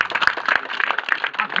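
An audience at a street magic show claps in a scattered, uneven burst of hand claps, fairly close, mixed with crowd noise.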